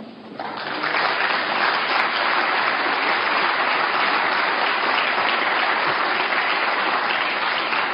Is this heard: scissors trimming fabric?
no